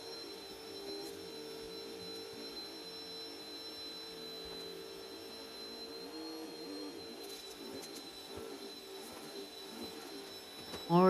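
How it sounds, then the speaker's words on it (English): A vacuum cleaner runs steadily at moderate distance, a continuous motor hum with a thin high whine, holding an even drone before a brief louder clatter right at the end. "I'm gonna go ahead and vacuum this part."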